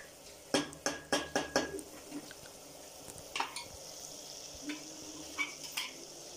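Minced meat (keema) cooking with fried onions in a pan, a quick run of five sharp stirring scrapes followed by scattered clinks and soft sizzling, close and fairly quiet.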